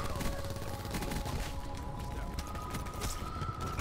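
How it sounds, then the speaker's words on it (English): Rapid Spitfire gunfire in Call of Duty: Black Ops 4, a dense continuous rattle of shots with mechanical clatter running through the whole stretch, loud and steady. "this gun that I'm using, the Spitfire, is absolutely nasty"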